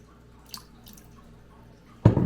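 About a cup of water is poured into a pot to start a seafood stock for blue crabs. It comes as a sudden, loud splashing gush after near silence and a couple of faint drips.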